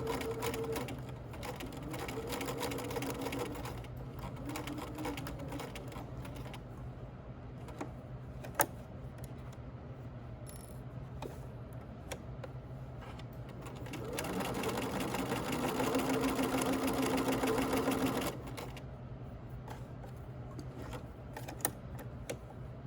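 A sewing machine stitches a hoodie pocket in fabric, running in steady rapid bursts with a faster, louder run near the end, its motor whir and needle chatter close and clear.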